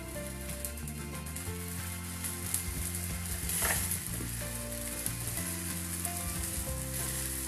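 Suji cheela frying in oil on a pan, a close, continuous crackling sizzle that holds steady throughout with faint stirring or scraping, no talking.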